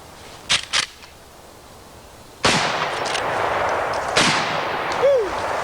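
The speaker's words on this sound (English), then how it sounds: "So let's begin today's Shootin' Show with some shooting." Gunshots from target shooting ring out in an outdoor setting: a quick pair of sharp cracks, then two louder, heavier shots a couple of seconds apart, each followed by a long rolling echo.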